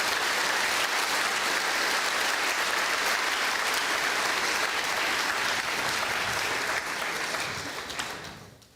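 A church congregation at a retreat in Chiapas, Mexico breaks into sustained applause, a dense even clatter of many hands that holds steady and then fades out near the end.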